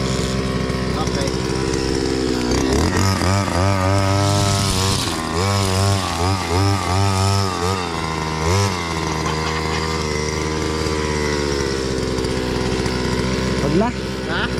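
A grass cutter engine roars loudly and continuously as it struggles against thick vegetation, its pitch rising and dipping under load, with people talking over the din.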